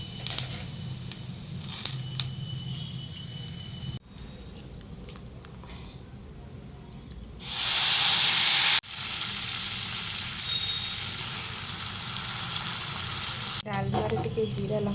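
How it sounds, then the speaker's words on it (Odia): Ghee, chili and cumin sizzling in a pan while tempering dalma, a steady crackling fry throughout with a loud hissing burst midway, stirring clatter, and a voice speaking over it. "ଏବେ ଡାଲମା ଛୁଙ୍କ ଦିଆହେବ। ଘିଅ ପଡ଼ିଲା, ଲଙ୍କା ପଡ଼ିଲା,"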